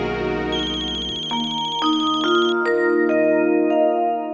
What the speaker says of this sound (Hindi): आप मुन्ना को फोन लगाइए ना